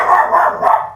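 Dogs barking in a quick run of sharp calls, several close-spaced barks fairly near and loud, with no talk over them.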